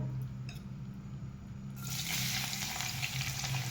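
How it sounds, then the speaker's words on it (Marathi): Onion goes into hot oil in a pan, and a soft sizzle swells partway through into a steady, close frying hiss over a low hum. "आपण आता कांदा भाजून घेऊया।"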